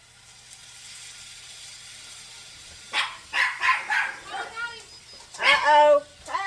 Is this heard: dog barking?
yes